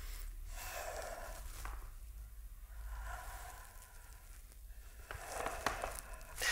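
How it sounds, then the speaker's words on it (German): Slow, audible Ujjayi breathing during a yoga exercise, with long breaths drawn in and out through the throat in a steady rhythm against a soft background hiss. "Gerne wieder in Ujjayi atmen."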